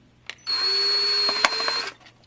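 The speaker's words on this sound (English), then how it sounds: "And here's my drill." A power drill drilling plastic of a Sega Genesis case whirs steadily for about a second and a half, with a short click before and brief rattling taps as it stops.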